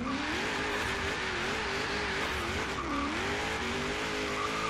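A slammed, stanced Chevy SS launches in Forza Horizon 3, its engine droning steadily with a wavering pitch as revs climb and tires squeal, loud and continuous with no talk.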